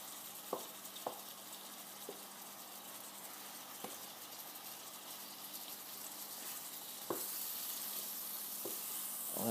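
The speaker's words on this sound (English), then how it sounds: "get back to the browning of the pork mince" Pork mince browning in a frying pan gives a steady low sizzle and fry, broken by a few sharp scrapes and clicks as it is stirred.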